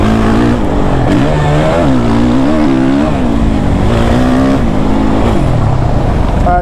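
A Suzuki RMZ 450 dirt bike engine is ridden hard, loud and close, its revs climbing and dropping in repeated waves as the rider shifts and throttles.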